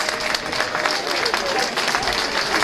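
Audience applause for prize winners at a sung Christmas contest award ceremony, a continuous crowd clapping texture with scattered louder claps throughout, voices faintly mixed in.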